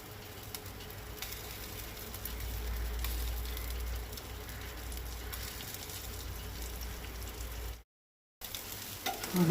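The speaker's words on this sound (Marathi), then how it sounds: "बुराटे खोबरेल तेलान भाजून घेवपाक जाय" Burate fish frying in coconut oil in a pan, giving a steady close sizzle and crackle throughout with no talk, broken by a brief silent gap near the end.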